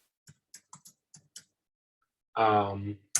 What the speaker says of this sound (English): I'm typing them in the chat for you.